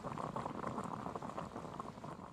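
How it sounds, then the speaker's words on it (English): Water boiling in Genshin Impact, a steady bubbling simmer that stays soft and even throughout, with no voices. "I'll boil some water."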